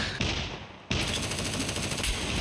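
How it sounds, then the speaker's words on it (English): Dense, continuous gunfire from the survival video game Scum, a sustained automatic-weapon fusillade that rattles on without pause at a steady, fairly loud level, with a brief dip before the shooting surges back in. "I hear gunfire, so that's a good sign."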